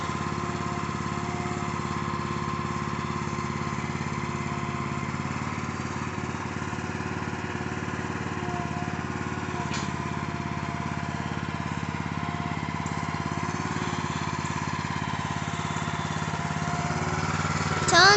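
The small engine of a Harbor Freight trencher/backhoe runs steadily and close by, a continuous buzzing drone that holds at an even level throughout.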